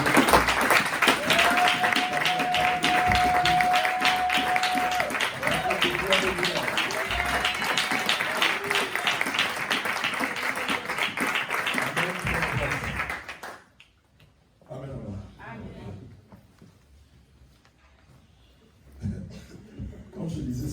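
A church congregation applauds and cheers during a sermon, a loud sustained burst with a sung or shouted tone early on, then it fades into quieter scattered murmurs and a few claps.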